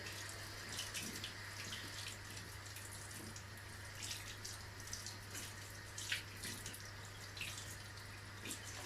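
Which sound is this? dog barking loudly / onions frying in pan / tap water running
tap water running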